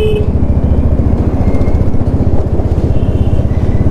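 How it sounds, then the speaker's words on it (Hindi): A 2017 Royal Enfield Classic 350 motorcycle with an aftermarket exhaust runs nearby, its single-cylinder engine thumping loudly and steadily with a rough, pulsing exhaust note. "आज हमारे पास है क्लासिक 350 ओल्ड वर्जन 2017 मॉडल"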